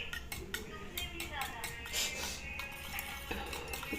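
Metal utensils clink against a pan while an egg omelette cooks in a home kitchen, with scattered light taps and scrapes running steadily under murmured voices and background chatter.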